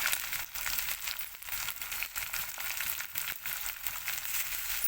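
Finely chopped tomato added to a pan of frying ginger-garlic paste for a Telugu-style fish curry, giving a steady, dense sizzle that runs close and continuous throughout.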